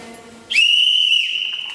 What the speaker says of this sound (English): at 7:30, he'd hear this whistle once again